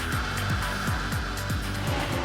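A sports car engine on an illegal Dubai street-racing run near 250 km/h revs hard in a series of quick rising surges, loud and close, with a steady roaring drone beneath the climbing pitch.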